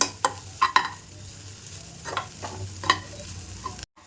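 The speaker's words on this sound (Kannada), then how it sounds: "ಈಗ ಇದು ಫ್ರೈ ಆಗ್ತಾ ಇರಲಿ" A mixture of prawns, dry fish and egg for a palya fries in a pan, with a soft continuous sizzle broken by several sharp scraping stirs of a spoon against the metal.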